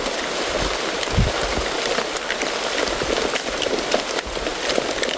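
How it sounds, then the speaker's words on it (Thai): Rain falling steadily across a forest, a broad continuous hiss with scattered patters and drips, close and fairly loud, with no talk over it. "ฝนตกเลย"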